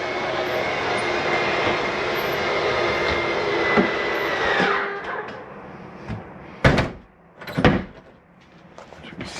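The wardrobe slide-out on a Grand Design Reflection 323BHS RV retracts with a sustained motor whine for several seconds, which then winds down into a few sharp thumps and knocks as the slide seats closed.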